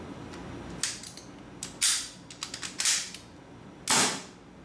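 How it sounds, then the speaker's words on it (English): A WE WE712 airsoft gun is cocked with no BB inside, its bolt locking to the rear in a few sharp metallic clacks and snaps spread across the moment, close and crisp over a quiet room. "So if I cock it, the bolt will lock to the rear."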